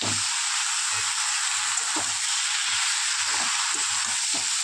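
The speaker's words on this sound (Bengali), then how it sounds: "গুঁড়ো মশলা দিয়েও আবারও কিছুক্ষণ কষিয়ে নেবো" Potatoes and a fish head frying with ground spices, a steady loud sizzle with soft stirring scrapes throughout, no voices.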